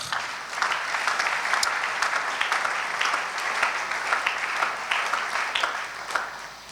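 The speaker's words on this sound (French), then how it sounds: "Est-ce qu'on peut acclamer le Seigneur?" A church congregation claps and cheers in praise of the Lord during a Sunday service, sustained applause of many hands mixed with scattered shouts, fairly distant and even throughout.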